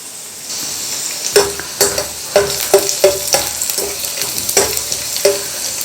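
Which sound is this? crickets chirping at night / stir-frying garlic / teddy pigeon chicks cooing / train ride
stir-frying garlic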